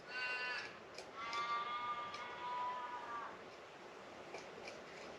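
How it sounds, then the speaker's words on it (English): Harsh, drawn-out crow caws sound at a distance a few times, then fade, leaving quiet outdoor ambience with no talking. "And listening to the crows in the background."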